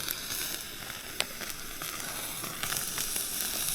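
Sausage balls sizzle in a pan at a winter wild camp, a continuous crackling fry with sharp pops and spits scattered through it, close and fairly loud with no talking.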